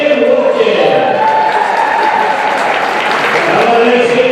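A gym crowd claps and cheers at a high school varsity boys basketball senior night, steady sustained applause filling the hall with a voice over the loudspeaker.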